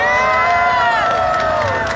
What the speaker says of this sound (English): So let's just have a round of applause